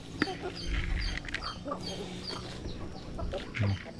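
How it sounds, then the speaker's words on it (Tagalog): Native chickens cluck and squawk around a feeding spot scattered with cracked corn and pellets, with several birds calling close by and overlapping each other while a person talks in the background. "Mayroon tayo mag-alaga ng manok."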